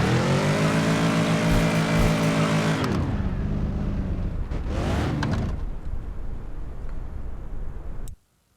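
A modified truck drives hard and accelerates, its loud engine roar rising steadily and then dropping in pitch before surging again, close and continuous until it cuts off abruptly near the end.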